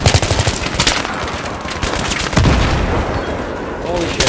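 Dense automatic gunfire rattles continuously in Battlefield 3, with loud close bursts and heavy booming impacts layered under a chaotic battle din.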